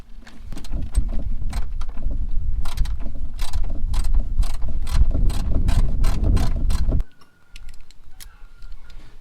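Close ratchet clicking in quick rhythmic bursts while undoing a hard-to-reach bolt during a fuel filter change on a 100 Series Land Cruiser, stopping near the end with a brief quieter tail.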